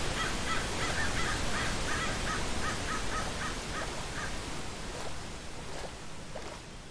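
A bird in the video game RLCraft gives a run of rapid, rasping caws, then a few separate calls, over a steady roar of wind or surf-like ambience that lasts throughout.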